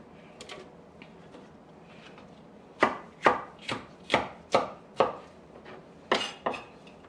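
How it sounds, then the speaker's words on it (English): Peppers and garlic get chunked in a food processor, heard as a burst of about nine sharp, evenly spaced pulses and chops following quieter rustling at the start. "I'm using a food processor because I want it to be nice and chunky."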